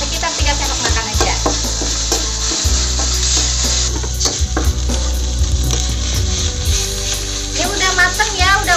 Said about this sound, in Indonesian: aku kasih minyak buat menumisnya secukupnya aja ya